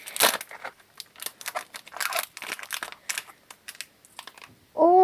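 A Stikeez collectible toy packet is torn open by hand, giving a series of close, crisp crinkling and ripping bursts of plastic wrap, followed at the end by a short harmonic squeal or voice.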